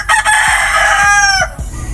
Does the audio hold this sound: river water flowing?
no